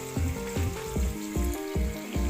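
Minced pork with vegetables stir-fried with light soy sauce, heard as a steady sizzle under repeated scraping strokes of a spatula in the pan, about six evenly spaced pushes, close and clear with no speech.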